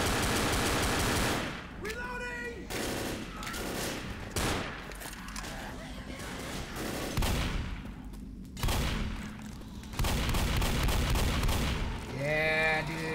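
Rapid bursts of shotgun and gunfire in Left 4 Dead, loud and dense, with repeated blasts and explosive booms across a chaotic zombie-hospital fight; excited voices shout over the shooting.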